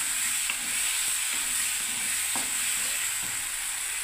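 Poppy seed paste with coriander leaves and turmeric sizzles steadily in a kadai, a continuous hiss broken by occasional soft scrapes and taps of a spatula as it is stirred.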